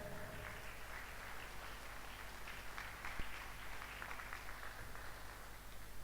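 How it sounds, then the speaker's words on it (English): Students at an innovation and entrepreneurship bootcamp give a steady, fairly faint round of applause to welcome arriving guests, the clapping lasting several seconds over a low background hum. "I want you all to welcome them with a round of applause"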